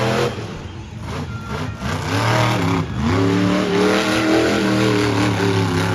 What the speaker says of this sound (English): That motor sounds like it's straining a lot.